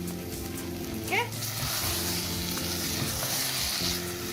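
Meat sizzles and fries in a pot for turnip and spinach gosht curry, with steady stirring scrapes and a constant hiss close by; a brief voice is heard partway through.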